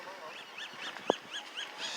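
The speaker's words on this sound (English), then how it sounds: "And today we have some ducks and birds." Ducks and other birds outdoors on a spring day in Arizona, with repeated moderate calls and chirps at a steady spacing over faint background noise, plus one sharp louder call near the middle.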